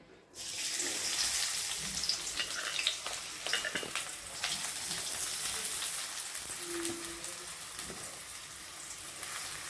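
A sudden sizzle bursts in and settles into a steady, crackling hiss of onions frying in hot oil nearby, with no talking.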